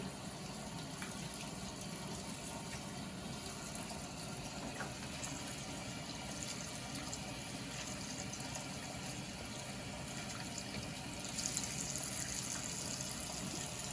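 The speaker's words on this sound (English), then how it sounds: "rinse your hands thoroughly" Water runs steadily from a tap into a sink, a constant splashing stream with no talking.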